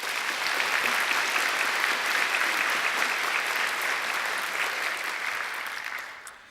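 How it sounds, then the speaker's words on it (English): Sustained applause from a large audience at a university graduation ceremony, a dense steady wash of many hands clapping that holds evenly before fading out at the end. "I think he deserves another great round of applause."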